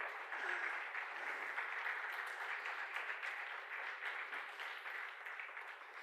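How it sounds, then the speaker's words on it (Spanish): A church congregation applauds, a dense, even wash of many hands clapping together that holds steady for several seconds, heard from some distance and fairly faint. "Dar un aplauso al Señor"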